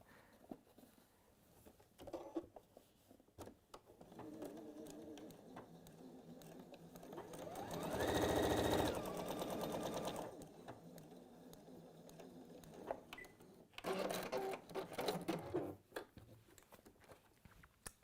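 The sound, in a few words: sewing machine stitching fabric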